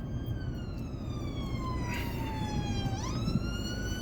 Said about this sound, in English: So I can hear sirens, there is an ambulance trying to get through.